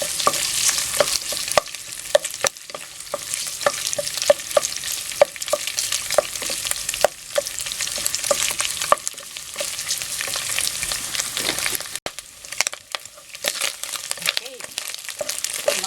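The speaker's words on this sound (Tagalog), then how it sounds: "i-fry lang natin ng konti dito sa cooking oil" Boiled pork frying in cooking oil, sizzling steadily and loudly throughout, with a spoon or spatula repeatedly scraping and stirring the pan in quick clicks and knocks.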